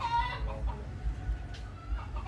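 Hens clucking and cackling in short bursts nearby, with a steady low rumble of background noise underneath.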